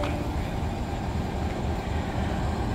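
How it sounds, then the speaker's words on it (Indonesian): A CC 206 diesel locomotive hauling the Argo Merbabu train gives off a loud, steady low rumble with a continuous mechanical drone at a station, with no voices. "Lokomotif kereta api Argo Merbabu yang akan kita naiki."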